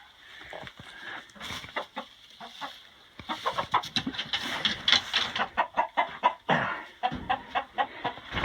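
Hens in a winter coop during a cold snap cluck and chatter in rapid, overlapping bursts close by, growing busier and louder partway through.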